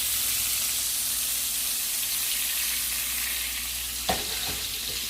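Scallops sear in a hot pan with a steady, loud sizzle throughout, broken near the end by a couple of short stirring or scraping knocks.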